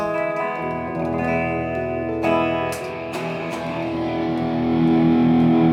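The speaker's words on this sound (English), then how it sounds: "and then my reverb" Electric guitar through a reverb pedal on a pedalboard, clean sustained chords with a couple of sharp strums, tails washing out into a long reverberant ring, loud and close.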